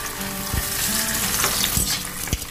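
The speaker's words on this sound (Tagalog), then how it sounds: "Iprito natin itong ating mga salinyasi." Freshly caught fish sizzle and crackle in hot frying oil, a busy close hiss with a few louder pops and spatters as pieces are added.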